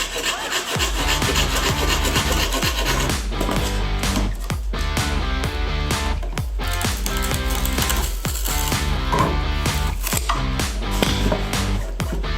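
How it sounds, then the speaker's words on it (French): A carbon fibre part on a Lotus being cut with a hand saw to clear the anti-roll bar, giving loud, close, rhythmic rasping strokes in a steady back-and-forth pattern for the whole stretch. "je suis obligé de scier une partie en carbone pour laisser passer la barre anti-roulis"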